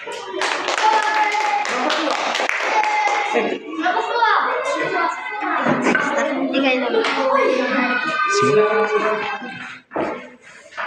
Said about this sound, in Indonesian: Oke, kita tepuk tangan dulu untuk kelompok 1.